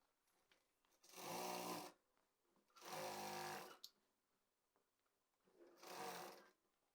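A sewing machine stitching fabric for a six-panel palazzo, running in three separate bursts of steady close whirring, each about a second long with short pauses between, no talk.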